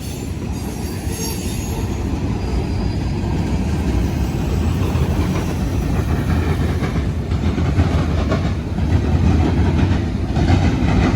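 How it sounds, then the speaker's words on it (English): A freight train rolls over the rail diamond crossing in Marion, Ohio at a restricted slow speed, a loud, close, continuous rumble of wheels with faint squeals and clacks running throughout. "That was the first train I've seen."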